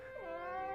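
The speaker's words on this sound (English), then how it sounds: "Your cat was scared, wasn't she?" A cat's single drawn-out meow, rising then sliding down in pitch, close and clear against a quiet background.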